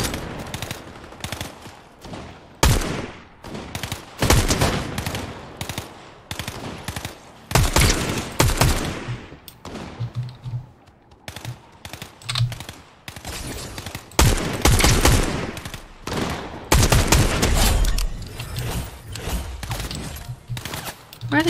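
Players fighting in the video game Fortnite trade loud, close bursts of gunfire, with repeated volleys and rapid strings of shots separated by short pauses throughout.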